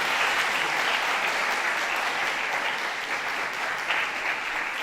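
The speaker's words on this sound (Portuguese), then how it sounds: "Dá uma salva de palmas para o nosso conferencista brilhante." Sustained audience applause for a guest lecturer at the close of an evening session of a church-school week; dense, steady clapping from a large crowd fills the whole stretch at an even level.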